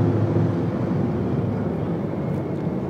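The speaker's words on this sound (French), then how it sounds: "c'est 3 hélicoptères qui viennent encore de passer" Three helicopters of a presidential escort fly past during a military parade at Guinea's independence ceremony, producing a steady, loud rumbling drone that holds constant throughout, with no talking.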